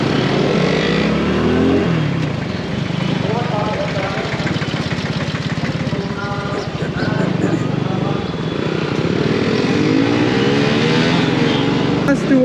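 A motorcycle engine runs loud and continuous during a day ride near Bangalore, with the rev rising and falling and wind rushing past. A voice talks over it.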